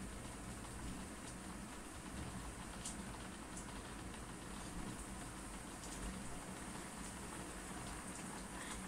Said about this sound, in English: Rain ASMR